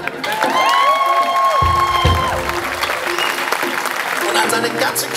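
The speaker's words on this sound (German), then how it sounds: "großen Applaus an dich" Concert audience in Hall in Tirol applauding and cheering for a live band, sustained clapping with whoops and a shouting voice over it, while sustained tones ring out at the start.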